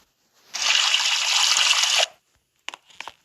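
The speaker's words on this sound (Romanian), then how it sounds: "I-am făcut un duș de o secundă." Household shower water running for a moment: a close, hissing spray that lasts about a second and a half and then stops, followed by a few faint knocks and clicks.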